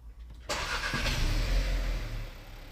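A car engine catches after the start button is pressed: a brief starter crank bursts into a steady, close idle that holds to the end.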